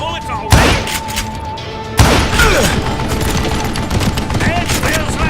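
Gunfire in the western shooter game Call of Juarez: Gunslinger, with two loud sharp shots followed by a dense, rumbling barrage of rapid firing and booms. A game voice speaks over part of it.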